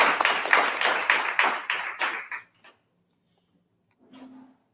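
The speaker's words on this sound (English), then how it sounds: "Could we just get a round of applause for Andy and Dream Bank for letting us host this event here?" A small audience at a social media breakfast claps in rhythmic bursts for a couple of seconds, then fades to silence, followed by a brief murmur of voices.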